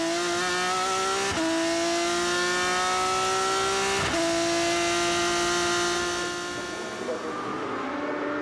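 A GP3 race car in qualifying at the Nürburgring, heard onboard: its engine screams at high revs, dips twice at sharp gear changes, then climbs steadily again, loud and continuous throughout.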